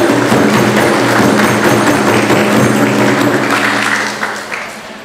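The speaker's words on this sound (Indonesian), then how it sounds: "Beri tepuk tangannya." Loud, dense applause from a hall audience at the opening ceremony of a legal-awareness ambassador selection in Aceh Tamiang, 2020, sustained and close before tapering off in the final second.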